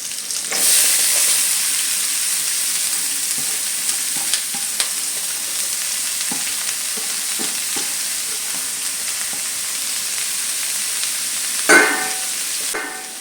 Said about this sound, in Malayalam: ഇതിലേക്ക് പൊടിയായിട്ട് അരിഞ്ഞു വെച്ചിരിക്കുന്ന സവാളയുള്ളി ചേർത്ത് കൊടുക്കാം